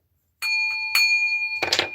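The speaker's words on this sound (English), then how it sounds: "Let's ring the bell." A hand bell rung to clear energies gives two bright, clear rings with a sustained tone, then a final clattering shake. No one speaks.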